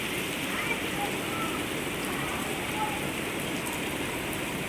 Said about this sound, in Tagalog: happening today here lakas ng ulan